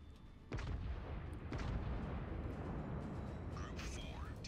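Naval gunfire rolls out in the World of Warships video game, with a sharp blast near the start and another a second later, then a long, loud rumble that persists while a voice speaks over the battle.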